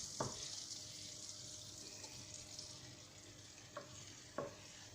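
Flour being stirred into melted butter in a pan for lasagne sauce, a soft steady sizzle with a few brief scraping knocks of the spoon, close and fairly quiet, with no talking.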